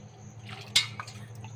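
Water dripping through a cloth filter gives one soft, close drip or splash against a steady low background hum, with faint trickling around it.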